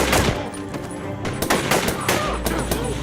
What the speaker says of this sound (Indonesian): Terjadi baku tembak kembali saat para teroris telah mengetahui penyusupan mereka.